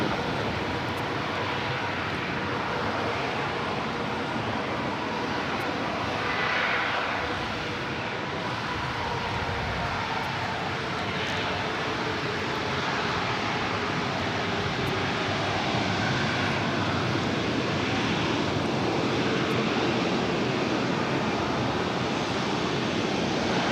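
An Asiana Airbus A380 taxis at LAX, a steady, broad jet-engine roar that fills the whole stretch at a constant level, close and loud, without any clear rise or fade.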